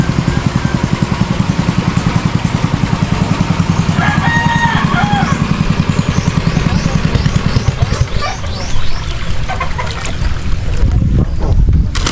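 A steady low engine drone of a small motorized boat (bangka) running on water near a fishpond, with wind buffeting the microphone and a voice faintly underneath.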